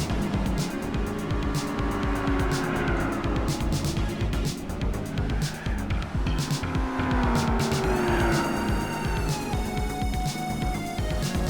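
A Honda NSX race car in the Gran Turismo 4 video game, with a continuous loud engine whine shifting pitch through gears alongside other cars on track, occasional tire squeal.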